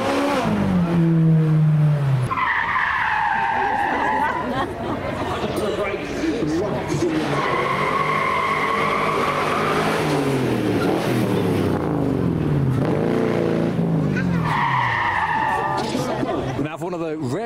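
Hard-braking cars at a car show produce screeching tyre skids and rising, falling engine roars in repeated passes, loud and near, with a voice talking over much of the run.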